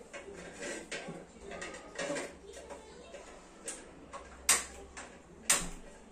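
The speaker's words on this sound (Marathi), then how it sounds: "आता पुढची प्रोसेस मी गॅस चालू करते" A kitchen gas stove is switched on with a clicking igniter while a cook prepares Malvani chicken rassa; sharp clicks stand out near the end, with soft kitchen clatter and a quiet voice underneath.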